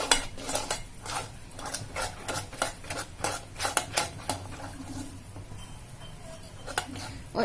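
Batter thinned with milk is stirred in a bowl, with rapid rhythmic clinks and scrapes of a spoon against the sides, close and fairly quiet, easing off briefly before resuming.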